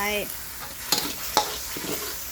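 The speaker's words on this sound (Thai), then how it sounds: "ผัดแต่น้ำมันหน่อยนึงนะ แล้วก็ ใส่นม น้ำสดลงไป" Spicy wild boar stir-fried in a little oil sizzles steadily up close, with a few sharp scraping stirs and clinks cutting through and no talking.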